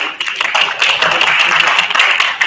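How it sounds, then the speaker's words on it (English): Audience at a hackathon pitch event gives a round of applause for team Ghost Coders, a steady crisp burst of many hands clapping close and loud for a couple of seconds. "I request everyone to have a big round of applause"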